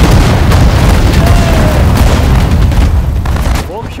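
Artillery fires in the war strategy game Sudden Strike 4, set in the Pacific War at the Battle of Bataan, with loud, continuous booming blasts and rumbling explosions close up, and a brief shouted voice near the end.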